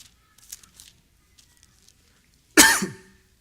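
One person lets out a single sharp, loud cough at close range during a church sermon, after a few faint scattered rustles in an otherwise quiet room.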